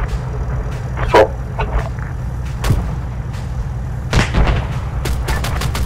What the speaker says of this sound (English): Standby, GPMG is going to engage a bunch of stuff in the